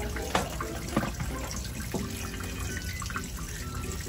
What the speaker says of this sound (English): Dump that old water out.